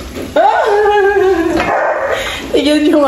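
A dog gives a couple of drawn-out whimpering yips, loud and close, in a home setting while kimchi fried rice is being eaten.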